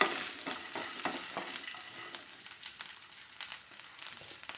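Cardamom, cinnamon, cloves and small shallots sauté in hot oil in a pan, giving a steady close sizzle broken by repeated stirring scrapes throughout.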